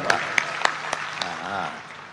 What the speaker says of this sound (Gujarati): હું તમારી માટે હું તાળી પાડું છું.